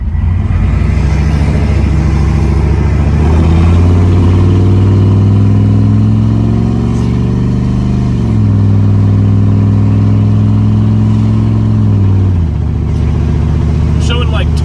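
A truck fitted with a straight pipe exhaust accelerates hard, its loud, deep engine note climbing in pitch, dipping briefly and climbing again before easing off near the end, all close to the listener.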